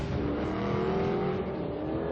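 A Mercedes SL grand tourer accelerates hard toward its top speed, its engine a steady, sustained roar with a slowly rising tone and faint wind rush.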